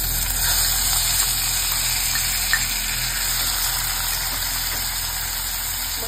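Chopped tomatoes hitting two spoons of hot oil in a kadhai for an idli chutney, giving a steady, even sizzle close by with faint stirring clicks throughout, and no voices.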